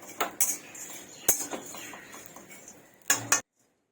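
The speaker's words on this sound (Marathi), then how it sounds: "हे पहा मी आता ह्या प्लेटमध्ये काढून घेते" Roasted ivy gourd is scraped from a pan onto a plate. Several sharp metallic clinks and scrapes of a utensil on cookware come in short bursts, close and fairly loud, then the sound stops abruptly.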